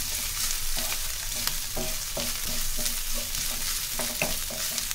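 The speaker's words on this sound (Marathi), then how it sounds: "1 मिनिट मोठ्या गॅसवरच आपण हे चांगलं परतवून घ्यायचं" Garlic and ginger stir-fry on a high flame for veg manchurian, a steady loud hiss of sizzling oil with a spatula scraping and tapping the pan at intervals, close up and with no talking.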